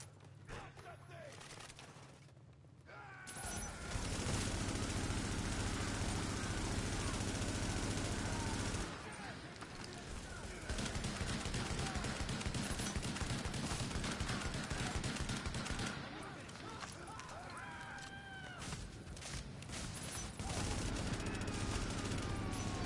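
Bursts of gunfire and machine-gun fusillades ring out in The Division, coming in sustained waves with short pauses between them, loud and close, as players talk over the shooting.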